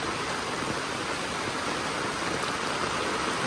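Heavy typhoon rain pours down in rural Bulacan, Philippines, a dense, steady hiss of water with no break, fairly loud and even throughout, with no voices.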